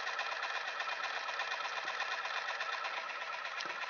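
An Apex AFS aquarium feeder, its AquaBus connector corroded, runs its small motor: a steady, even mechanical whirring hum that holds unbroken throughout, close and fairly quiet, with no talking.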